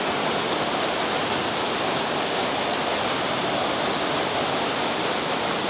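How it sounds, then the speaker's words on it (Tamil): A constant roar of rushing water, broad and unbroken, like a nearby waterfall or fast stream, with no voices, at Lake Louise in Banff, Alberta. "அப்படியே அந்த தண்ணி சத்தம் கூப்பிட்ற மாதிரியே இருந்துச்சு தானே"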